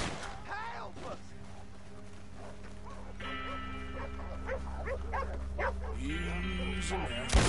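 Dogs bark and yip in Red Dead Redemption 2, with several sharp calls scattered over a steady music and ambience bed while voices talk around them.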